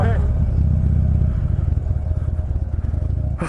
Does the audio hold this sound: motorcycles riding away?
yes